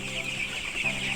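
Broiler chickens about 15 days old on a poultry farm cluck and chirp together in a steady, close flock chorus with no speech.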